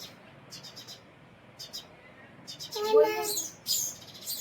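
A sparrow chick calls for its parent with short high chirps and squeaky tweets in a few bursts, fairly close, over faint background noise.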